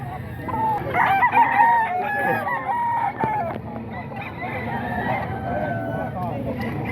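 At a busy chicken market in Bocaue, a rooster crows loudly and nearby while other chickens cluck around it, with people talking throughout.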